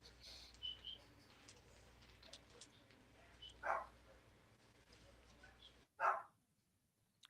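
A dog gives two short, sharp barks a couple of seconds apart, fairly faint in a quiet room, with faint bird chirps earlier.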